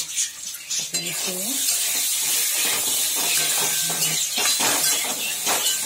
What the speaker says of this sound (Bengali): এই মশলাটাকে কষছি, এই মশলাগুলো দিলাম, কষছি।